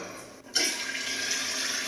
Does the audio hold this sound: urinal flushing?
yes